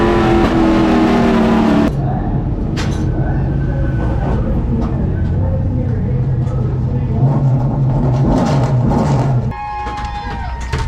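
Race cars roaring around the Hickory short track during a playoff race, loud continuous engine drone from an in-car view with shifting pitch as the car runs into the turns.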